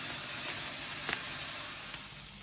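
Poblano peppers sizzle steadily in a pan over moderate heat, a continuous close hiss of frying with a brief brighter crackle near the middle and no talking.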